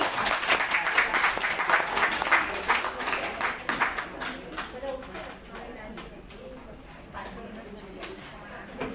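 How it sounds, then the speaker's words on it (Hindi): Loud, dense applause from a seated audience at a community senior citizens' dance-drama performance, strongest at first and gradually thinning out, with a voice speaking over it. "जोरदार ताली"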